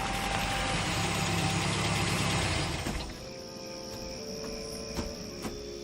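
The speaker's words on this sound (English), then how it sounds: "You hear that? Jeep on the road." Jeep engine on a road in a radio drama, a loud steady engine rumble that drops to a quieter idling drone with a couple of faint knocks, no voices.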